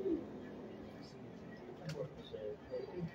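Pigeons coo softly and faintly somewhere in the background of a loft, low murmuring calls repeating under a steady hum of room noise, with no clear voice on top.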